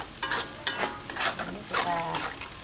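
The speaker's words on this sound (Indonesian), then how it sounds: "Ini kita tumis bumbunya sampai matang ya." Spice paste stir-fried in a pan, with soft sizzling and scraping stirs coming in uneven bursts, close and moderately quiet.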